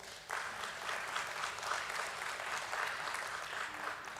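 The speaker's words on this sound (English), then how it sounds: "that definitely deserves a round of applause" Even, continuous applause from an audience at a stock exchange listing ceremony, many hands clapping at moderate, fairly distant volume with no talk on top.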